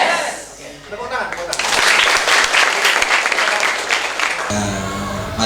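An audience of school student council members applauds in a hall during a national defence briefing, a dense burst of clapping that swells quickly and holds loud before cutting off.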